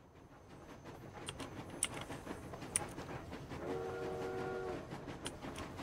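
A train horn sounds in the video game Industria, a sustained multi-tone blast in the second half over rolling train noise with sharp clanks, moderately loud and without talk.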